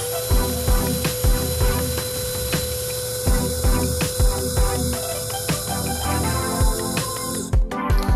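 DeWalt DCD805 cordless impact drill running at speed 2, a steady high-pitched motor whine with rapid repeated ratcheting impacts, loud and close, before cutting off near the end.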